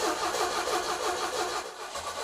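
The engine of a 1975 Opel Manta with a recent overheating issue turns over and runs close by, giving a dense, rough, steady mechanical roar with slight pulsing for a couple of seconds and no voices over it.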